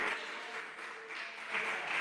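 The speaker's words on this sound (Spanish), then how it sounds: "Un aplauso para el Señor que cumple su palabra." A church congregation applauds during a Spanish-language worship service, a continuous wash of clapping at moderate level that swells toward the end, with no voices over it.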